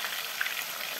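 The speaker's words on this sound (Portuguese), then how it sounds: "Aqui vou começar fritando o peixe, né?" Fish frying in hot oil at 180 degrees, a steady soft sizzle with faint crackling pops, heard close and without talk.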